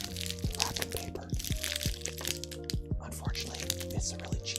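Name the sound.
crumpling cheap wrapping paper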